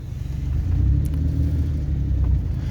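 A learner driver's car pulls away slowly as the clutch is released during a driving lesson in Jaipur, giving a steady, close low engine rumble that holds throughout with no talk.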